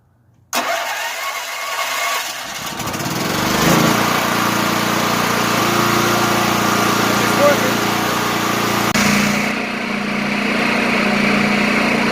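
A Harbor Freight 8780 portable generator's small engine starts with a loud burst and settles into a steady, close, continuous idle with a rough mechanical drone.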